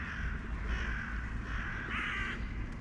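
Several crows caw repeatedly outdoors in a garden with a pigeon nearby, their harsh calls fairly close and steady over constant background ambience with no talking.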